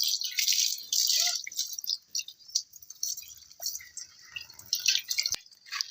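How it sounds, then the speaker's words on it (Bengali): A banana leaf being rinsed by hand gives soft, steady splashing and dripping water with scattered small trickles, faint and close, with no voices. "তো আমরা কলা পাতাটাও ধুয়ে নিচ্ছি এবার"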